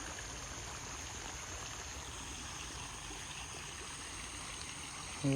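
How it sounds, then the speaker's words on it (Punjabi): Rainwater flows near a flooded road close to the Sutlej embankment at Daudpur village, making a faint, steady rushing trickle that continues unbroken with no voices over it. "ਸਾਰਾ ਮੀਂਹ ਵਾਲਾ ਪਾਣੀ ਚੱਲ ਰਿਹਾ ਉਰੇ ਸਾਡੇ"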